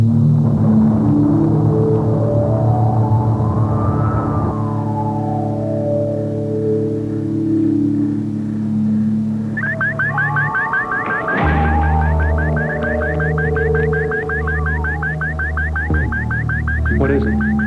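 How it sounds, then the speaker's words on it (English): An electronic alarm system goes off loud and continuous, first with rising and falling siren sweeps, then with a rapid warbling pulse. "That alarm system is really hot. Anything penetrates it, and we're going to know about it."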